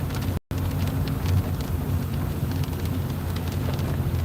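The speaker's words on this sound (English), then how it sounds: "It's raining" Rain falls steadily on a car while it is being driven, a constant broadband hiss and patter blending with low road rumble, with no voices.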